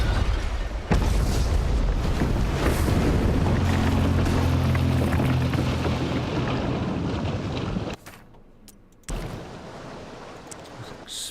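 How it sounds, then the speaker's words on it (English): Mortar rounds explode in the naval combat game Abandon Ship, a loud sustained booming rumble that drops out abruptly near the end, then resumes at a lower level. "that last mortar round totally missed"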